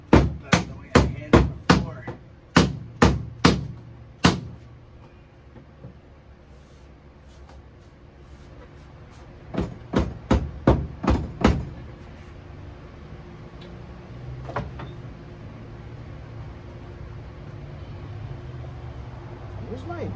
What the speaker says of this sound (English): Where's my good hammer? You know, the one that actually has some oomph behind it.